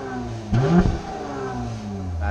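A Mercedes-AMG E43 gets a single short blip of the throttle, the engine note jumping up sharply and falling back to a low idle rumble, close by.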